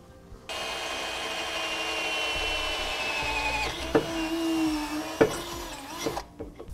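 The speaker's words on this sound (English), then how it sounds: "And I'll drill out my pilot hole." A right angle drill fitted with a 1/4 inch bit bores a pilot hole in a vehicle's frame while fitting coil-spring air helper springs, giving a steady close whine with a few sharp knocks near the end.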